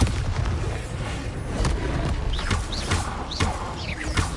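Bombarda explosion spell booming in Hogwarts Legacy amid continuous game combat noise, with a dense low rumble and several sharp whooshing spell effects over about four seconds.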